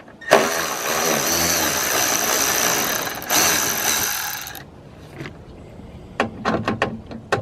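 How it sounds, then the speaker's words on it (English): A ratchet works on small bolts during a radiator install, a loud close whirring stretch followed by a few quick, sharp clicks in the quieter end. "let's get these little bolts off here."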